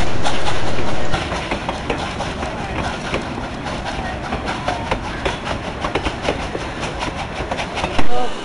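A Durango and Silverton narrow gauge train pulls away from a station with a steady rolling clatter of wheels and cars. The sound is loud and close, with a heavier burst at the start and another near the end.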